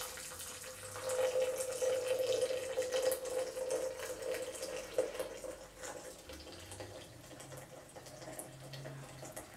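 Hot water streams steadily into an 850 ml glass French press, a continuous close pouring and filling sound with a faint trickle, no one talking over it.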